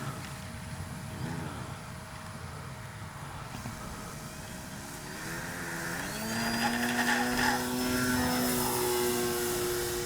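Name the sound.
radio-controlled model airplane flying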